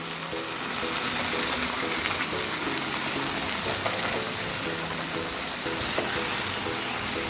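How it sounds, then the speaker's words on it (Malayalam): Ground tomato and chana paste poured into a hot frying pan, giving a steady close sizzle and bubbling fry that holds evenly for several seconds. "നമുക്ക് തക്കാളി അരച്ച് വെച്ചത് ഒഴിച്ച് കൊടുക്കാം. തക്കാളി ചണയും കൂടി അരച്ച് വെച്ചതാണ്."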